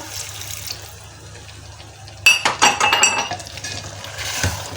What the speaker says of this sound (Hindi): अब मैं इसमें शामिल कर दूँगी आधा कप पानी का